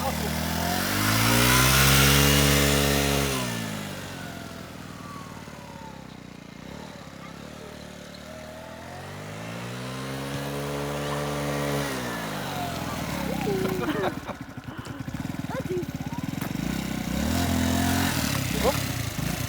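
A cheap 200-euro scooter engine revs at full throttle, its buzzing pitch climbing and falling in two long sweeps, with people talking over it.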